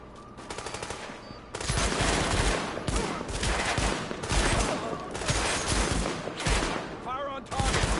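Sustained, dense gunfire from a firefight in the video game The Division, with overlapping automatic bursts and brief game voice callouts.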